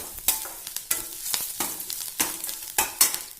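Curry leaves and coriander leaves crackle and sizzle in hot oil in a pan for a sambar dish, with repeated bursts of spattering and stirring scrapes, close and fairly loud, no voices.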